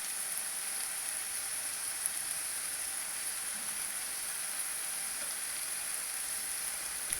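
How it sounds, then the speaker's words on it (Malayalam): Gooseberries sautéing with turmeric and Kashmiri chili powder for a gooseberry pickle: a steady, soft, high sizzle of frying runs throughout without a break, faint and even, with no talk. "മഞ്ഞൾപ്പൊടി, മുളക് പൊടി എന്നിവയും കൂടി ചേർത്ത് നന്നായി വഴറ്റുക."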